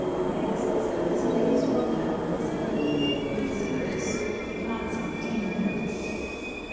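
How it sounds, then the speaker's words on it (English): A suburban rail train pulls into a station on a line running toward Airport Central, with a continuous rumbling roar of wheels on track, high squealing tones layered on top, and a faint voice underneath. "the train door opens before the train actually stops"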